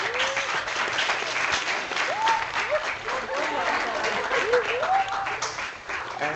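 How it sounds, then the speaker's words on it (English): Audience giving a warm round of applause for Pro Football Hall of Famer Floyd Little, steady dense clapping throughout with faint crowd murmur and a few voices mixed in. "giving a warm round of applause for Mr. Little today."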